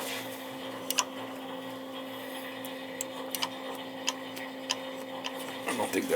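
Sparse, sharp little clicks at irregular intervals from the vacuum switch of a Crown BWC150 condensing boiler showing an E28 code, over a steady low mechanical hum, close and fairly quiet.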